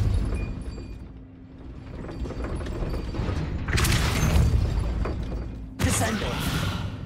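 Depulso spell cast in the video game Hogwarts Legacy, a loud whooshing magical blast with a sharp burst followed by a second crashing impact, layered over continuous game rumble and ambient noise.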